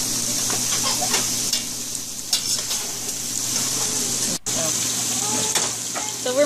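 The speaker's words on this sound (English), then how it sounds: "Eggs are cooking in the waffle machine." Eggs sizzle while cooking in a waffle machine, a steady close hiss with scattered crackles and small clicks, briefly cut off once partway through.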